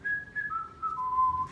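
A single person whistles a short descending melody of a few sustained notes, mimicking a giant strolling along in a told story, clear and close against a quiet background.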